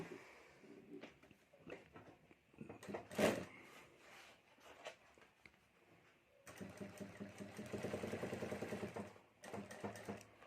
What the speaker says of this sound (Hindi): यहाँ हमें ऊपर सिलाई कर देनी है